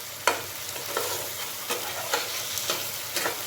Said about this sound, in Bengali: দই দেওয়ার পর আমি মশলাটাকে আরেকটু কিছু সময়ের জন্য কষিয়ে নেব।